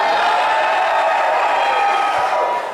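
A live concert crowd in Moscow cheers and screams loudly, a dense, sustained roar of many voices that fills the room and tapers slightly at the end.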